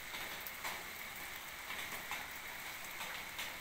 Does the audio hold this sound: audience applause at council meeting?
no